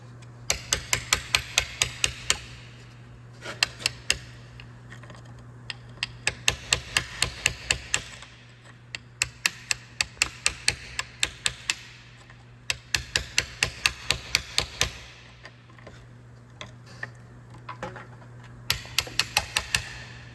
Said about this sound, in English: I'm just gonna grab a punch and a hammer and try to knock some of that rust scale loose